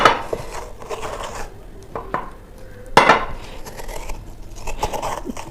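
A round ladle scrapes and clinks in a cooking pot as food is scooped, giving a few sharp metallic knocks between softer scraping and stirring, fairly close and with no voices.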